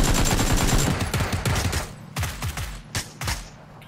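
Heavy automatic gunfire from a battle royale video game rattles in dense, loud bursts, thinning toward the end into a few separate shots, with no talking.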